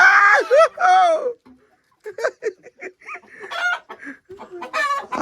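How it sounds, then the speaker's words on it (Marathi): Close, loud free-range country chickens cluck and squawk in rapid bursts, with a rooster's strained crow rising near the end among the flock's chatter. "प्युअर सगळ्या गावठी कोंबड्या"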